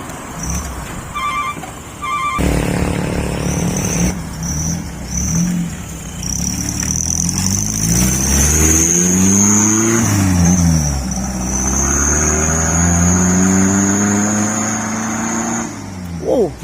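Mitsubishi Colt truck engine fitted with a flexible fake turbo, revving repeatedly with a rising and falling roar and a steady high turbo-like whine above it, close and loud.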